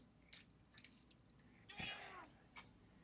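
A cat meows once, faint and close, among a few small clicks and rustles in a quiet room.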